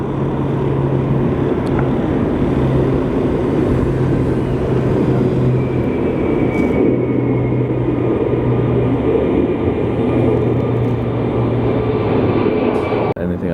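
A jet airliner taxiing into position at LAX, a loud, steady engine roar with a whining tone that stays constant and close throughout.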